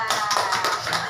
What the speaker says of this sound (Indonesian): Tepuk tangan Nila.